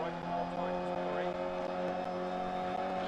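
Rally car engine in Dirt Rally holding a steady droning tone while driving uphill, loud and continuous, with someone talking over it.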